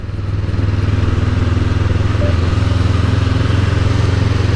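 Steady engine drone of a Honda NX500 motorcycle cruising at an easy pace on a road, loud and continuous with a low rumbling pulse and no talk over it.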